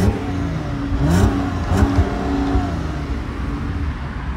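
A 3.2-litre V6 in an Audi A3, warmed up, revs through several rising and falling sweeps up close, a throaty engine note rising over a steady idle with no voices.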